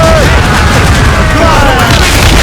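Naval cannon volleys from a sailing warship in Assassin's Creed Rogue, a dense, continuous roar of booms and blasts loud and close, with shouted crew orders mixed in.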